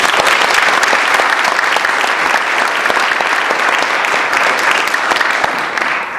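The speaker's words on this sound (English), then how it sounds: "Just join me in giving them a round of applause." Warm applause from a community audience at a public forum on opioids, welcoming a panel that includes a firefighter paramedic, with full, steady clapping that tapers slightly at the end.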